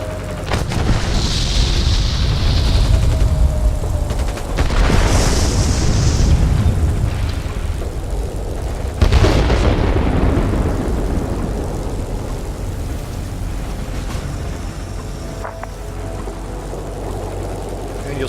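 Bombs dropped in the Warplanes video game detonating, heavy booming blasts with rolling low rumble that swells and fades over aircraft engine drone, one sharp burst midway, loud and without talk.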